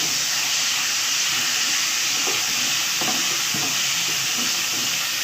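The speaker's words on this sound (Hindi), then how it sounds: "थोड़ा सा फ्राई करना है इसको।" Garlic and ginger paste frying in hot oil with whole spices, a steady loud sizzle and hiss throughout, with a few faint scrapes of stirring near the middle and no talking.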